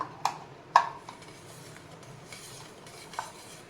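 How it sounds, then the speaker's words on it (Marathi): A spoon stirs sugar or jaggery into a Kharvas mixture, giving a few sharp clinks against the vessel near the start and one later, with soft scraping in between, quiet and close, with no voices. "साखर आणि गूळ जे काही तुम्ही घ्याल ते यामध्ये सर्वप्रथम चांगल्या प्रकारे मिक्स करून घ्यायचं"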